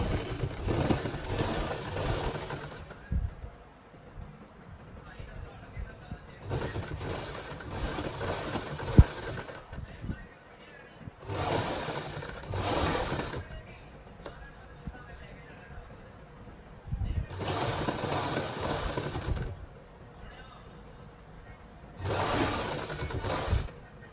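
A sewing machine runs in five steady bursts of a few seconds each as it stitches a lace edge onto fabric, with quiet pauses between runs and a voice speaking softly through the gaps.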